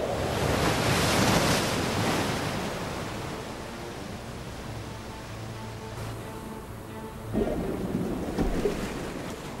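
Huge waves roll in on Lake Lucerne, Switzerland, after the 1601 earthquake: a continuous roaring wash of surf mixed with wind, swelling and surging again near the end.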